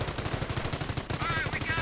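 Heavy machine gun fire in a Company of Heroes battle, a rapid, rhythmic burst of shots that continues throughout, loud and close, with a higher whining effect layered on near the end.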